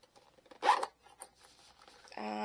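A single quick zipper pull on a lace-up shoe rasps up close, followed by faint rustling and a soft low hum near the end.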